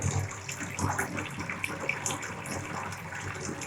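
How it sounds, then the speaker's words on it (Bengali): Water pours steadily from a tap or vessel into a cooking pot for a pressure cooker, a continuous close splashing gush with no talk. "জলটা দিয়ে দিচ্ছি।"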